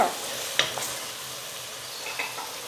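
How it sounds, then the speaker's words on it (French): Vegetables with tomatoes and garlic sizzle steadily in a pan, a close, even hiss with a few small pops and spatters. "je vais les ajouter directement et continuer à les faire revenir tout ensemble"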